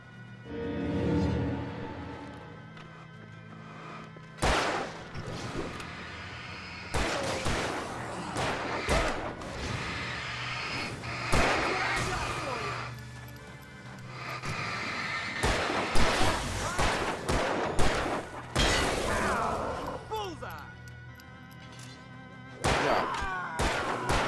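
Scattered loud gunshots and heavy thuds in Alan Wake Remastered, irregular single cracks spread through a tense game scene, with voices speaking between the shots.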